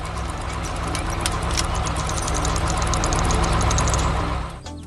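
Engines of an excavator and a trencher run together at a steady, loud rumble while digging out a pond, then fade slightly near the end.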